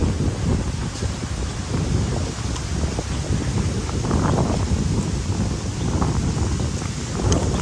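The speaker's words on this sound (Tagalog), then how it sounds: "Hangin-hangin dito guys." Strong wind blowing through a forest roars steadily across the microphone, a dense rushing noise with gusty rumble and no voices.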